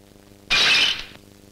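Old gramophone record shattering as it breaks, one sudden bright crash of brittle fragments lasting about half a second before tapering off, close and loud against a quiet room.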